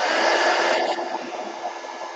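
Hair dryer blowing over wet pan pastel artwork, a close, loud broadband whoosh that shifts slightly partway through and keeps running steadily.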